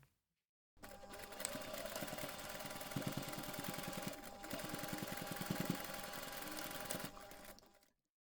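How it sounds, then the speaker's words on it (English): A sewing machine runs one steady seam on a flexi coin pouch, a continuous close whirring hum with a fast rhythmic needle chatter that starts abruptly after a brief silence and stops near the end. "Then you can take this to the machine and sew the seam."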